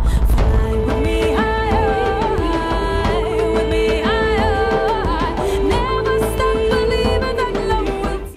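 Artsvik's Eurovision 2017 entry for Armenia, Fly With Me, plays loud and full, a dense pop arrangement with a sung vocal line over steady beats and bass, continuous throughout.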